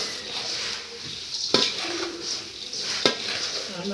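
Hot spice tempering is poured over puffed rice in baskets and mixed for a chudaa snack, giving a soft continuous rustle punctuated by two sharp metallic clinks, close up with no voices.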